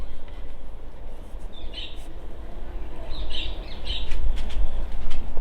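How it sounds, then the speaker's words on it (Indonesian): Birds chirp in short bright bursts, a few calls at a moderate distance, over a constant rumbling outdoor background on a home balcony with chili plants. "Tuh burung-burungnya pada bunyi itu pada kesini nanti."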